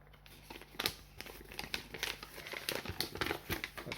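A paper insert from Transformers Cyberverse Windblade toy packaging is handled, giving dense, crisp crinkling and rustling in irregular bursts, close and fairly quiet, with no voices.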